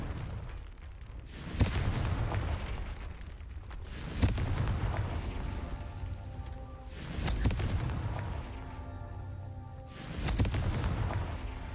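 Confringo fire spell from Hogwarts Legacy: four booming blasts spaced a few seconds apart, each a sharp burst trailing into a rumbling decay, with no talking.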